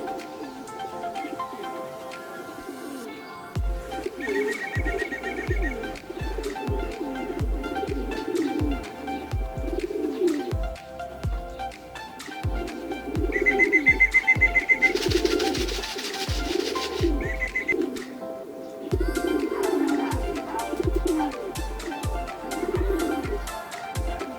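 Racing pigeons coo repeatedly in low, rolling murmurs, close and steady, with occasional higher chirps and a brief burst of noise midway, as birds arrive at a race finish.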